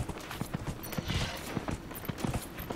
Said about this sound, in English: That was a horse?